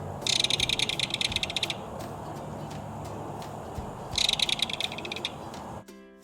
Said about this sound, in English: You will often hear this rattling call of the belted kingfisher long before you ever spot the bird.